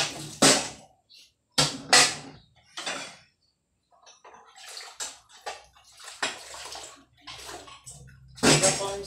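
Glasses being rinsed by hand a second time after soaping, with bursts of running and splashing water separated by gaps, plus softer clinks and handling noises in between.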